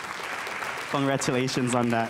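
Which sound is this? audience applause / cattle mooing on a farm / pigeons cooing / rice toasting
audience applause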